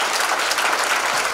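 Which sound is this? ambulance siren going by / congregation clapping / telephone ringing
congregation clapping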